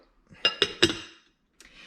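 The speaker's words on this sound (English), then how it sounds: "We're gonna put a lid on it." Three quick clinks of a lid being set onto a dish of vegetables for microwaving, followed by a softer knock after a short pause.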